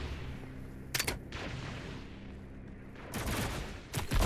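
Gunfire in the video game Doom Eternal on Nightmare difficulty: loud bursts of shots and impacts over a dense rumbling game soundscape, with a low droning tone underneath.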